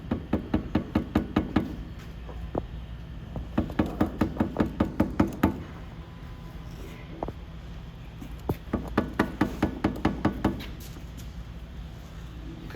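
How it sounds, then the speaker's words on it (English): A freshly laid brick is knocked down against a level, giving close, sharp taps in quick rhythmic runs, with brief pauses between groups of knocks. "Lightly hold on to the level, and then you can knock the front"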